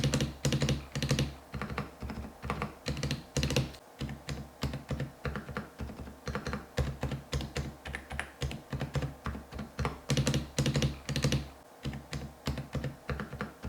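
Steady clacky typing on a Skyloong GK87 Pro mechanical keyboard with a split spacebar, dense keystrokes with deeper thocky spacebar hits, continuing without pause and no talking.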